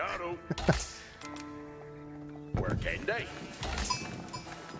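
A few short sheep bleats from a herd in Age of Empires IV sound under ongoing gameplay chimes and tones, with a player talking over them.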